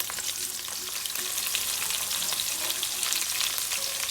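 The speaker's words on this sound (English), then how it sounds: "adding the crushed garlic. Let's just stir it up." Crushed garlic frying in a pan with oil, a steady bright sizzle with light stirring scrapes throughout, close and loud with no voices.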